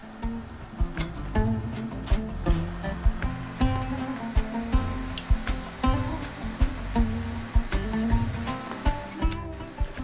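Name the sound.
schnitzel frying in oil in a sauté pan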